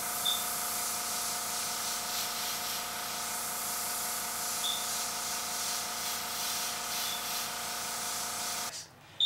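An airbrush sprays orange paint in a continuous fine hiss, steady and close, ending with a short break and a click at the very end.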